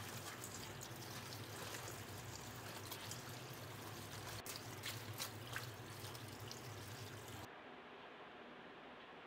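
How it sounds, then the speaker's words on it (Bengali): Cleaned bele fish is rinsed with water: a quiet, steady rush of running water that cuts out near the end. "এবার এটাকে ভালো করে অনেকবার জল দিয়ে ধুয়ে নিতে হবে।"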